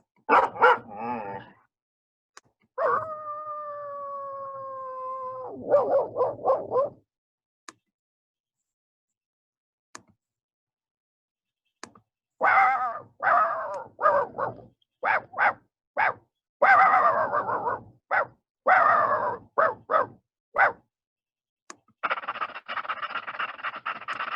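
Recorded dog sounds play one after another, separated by silent gaps: sharp barks, a higher whining yelp, and bursts of yips and barks, each clear and fairly close.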